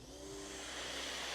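A Giraffe Tools G30 wall-mounted pressure washer spraying onto a greasy barbecue area, a faint continuous hiss of the water jet that builds slightly and holds steady.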